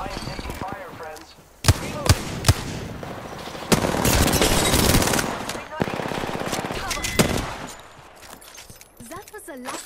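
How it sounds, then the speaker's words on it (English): Bursts of automatic gunfire and sharp shots crack through a hectic Apex Legends firefight, loud and dense with brief gaps, close-range weapon fire mixed with game effects. "I am taking fire, friends."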